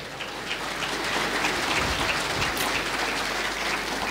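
A church congregation claps together in steady, dense applause, a continuous patter that holds evenly from start to finish with no voices over it.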